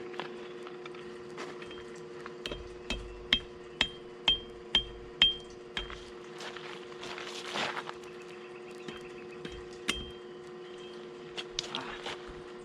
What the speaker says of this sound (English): Use my small hammer